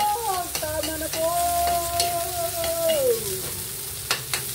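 Onion sautés in a pan for chicken caldereta with a steady sizzle and stirring scrapes. A sustained sung or hummed voice carries over it, then fades out toward the end.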